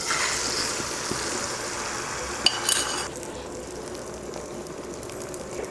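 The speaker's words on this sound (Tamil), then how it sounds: "அதில் முட்டையை ஊற்றிக்கலாம்." Beaten egg poured into hot oil for a bread omelette gives a steady broad sizzle that eases after a soft clink about midway, continuing quieter and close, with no talking.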